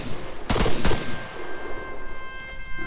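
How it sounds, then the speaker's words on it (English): AI enemies open fire in the military video game Arma 3, two sharp close gun bursts followed by rattling distant gunfire and a noisy battlefield ambience. "these AIs are shooting at me"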